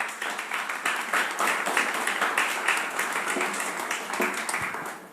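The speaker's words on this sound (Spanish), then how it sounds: "¿Aplaudimos al Señor?" Audience applause fills a church service: steady, dense clapping from a crowd, sustained throughout with no talking over it.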